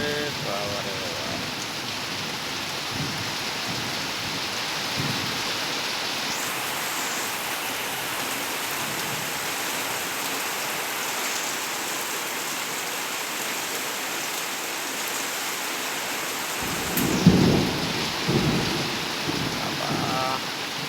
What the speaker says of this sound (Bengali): মেঘ ডাকতিস, বাবা রে বাবা